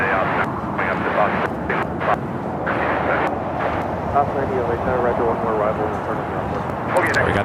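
An Asiana Airlines airliner at Los Angeles International Airport gives a steady, broad jet roar that fills the whole stretch, with a faint voice murmuring beneath it.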